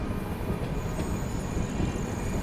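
CR Rajdhani Express, a push-pull train on the main line, picking up speed in fog, heard from inside as a loud continuous rumble of wheels and carriage noise with a faint high squeal running through it.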